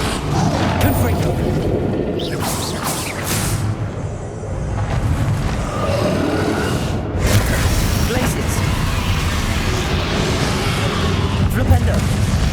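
Continuous dense spell-combat noise from Hogwarts Legacy, with booming Confringo fire blast explosions layered over one another, loud and near throughout while a voice keeps calling out.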